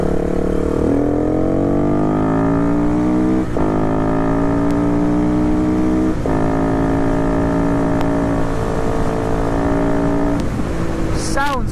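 A 2011 AJP PR4 200 supermoto motorcycle engine revs up through several gears with a rising whine, dropping at shifts near 3.5 and 6 seconds, loud and close for nearly twelve seconds, with wind noise throughout.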